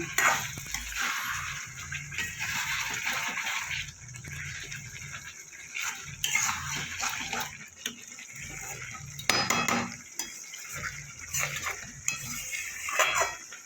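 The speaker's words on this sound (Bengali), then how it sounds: "গরম মশলাটা দিয়ে এবার আমি ভালো করে মিশিয়ে নেব" Metal spoon stirring and scraping in a pan as garam masala is mixed into spicy cauliflower curry, a steady rhythm of clinks and scrapes with faint sizzling underneath.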